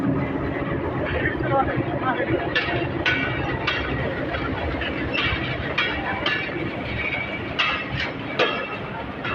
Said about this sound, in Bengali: দর্শক দেখতে পাচ্ছেন রেল ছেড়ে চলে যাচ্ছে সিরাজগঞ্জ এক্সপ্রেস।